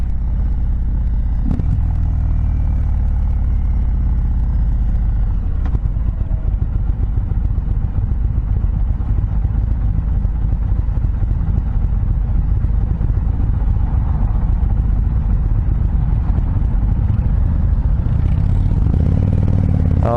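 A 2021 Indian Chieftain Darkhorse motorcycle engine pulls under throttle, a steady loud low rumble with road and wind noise throughout.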